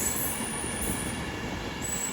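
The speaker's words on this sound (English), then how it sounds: "Incoming now will be a Terminating Avanti West Coast service from Manchester Piccadilly." An Avanti West Coast class 390 Pendolino from Manchester Piccadilly rolls into London Euston with a steady rumble and a faint high wheel squeal, distant and fairly quiet, no talking.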